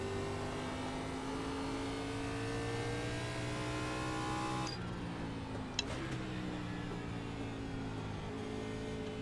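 Race car engines hum steadily in a NASCAR iRacing Class B sim race as the field goes green, a dense layered drone of multiple cars that thins slightly midway, with a brief sharp tick near the end.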